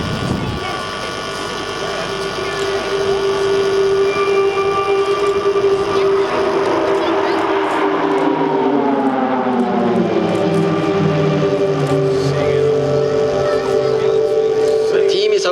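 Swiss Air Force PC-7 team turboprop trainers open a 2016 flying display with an inclined loop in Flying Diamond formation. A loud, steady propeller drone holds throughout, its pitch sweeping downward midway as the formation passes.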